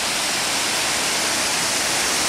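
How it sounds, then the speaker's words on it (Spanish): A large mountain waterfall roars as a dense, loud, unbroken rush of falling water, close by and filling the scene. "hasta llegar a la grandiosa cascada"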